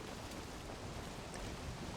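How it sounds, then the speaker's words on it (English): Steady rain hisses during a storm in the Valheim wilderness near swampland, a continuous broadband wash with no distinct drops or thunder, fairly quiet and unbroken throughout. "I don't really like storms right now"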